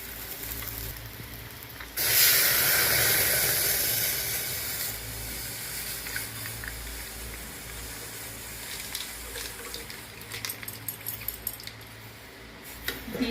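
Milk poured into a pan of rice lightly fried in ghee for Bengali nikutir payesh bursts into a loud, broad hiss and sizzle that slowly fades, followed by small clinks near the end.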